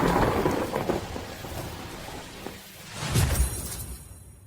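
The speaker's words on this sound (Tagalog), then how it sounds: "Mabilis, ulan ng malakas." Heavy rain pours in a dense, steady hiss while thunder rumbles low and close, swelling near the end, with no voices.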